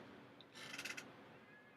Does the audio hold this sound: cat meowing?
yes